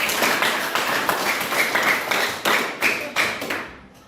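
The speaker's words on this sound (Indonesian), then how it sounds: "tepuk tangan untuk kelompok 4" A classroom of students claps for a group after its presentation, loud and close, the patter thinning into a few sharp separate claps before fading out.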